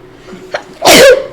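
A single sharp human sneeze, close and loud, with a short intake of breath just before the burst.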